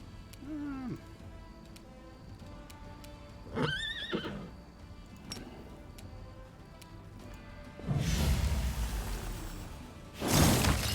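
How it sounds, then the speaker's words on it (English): A plagued horse in a fantasy role-playing video game gives a couple of distorted neighs and whinnies among game sound effects, followed by louder rushing noise bursts near the end. "Oh, it's a plagued horse."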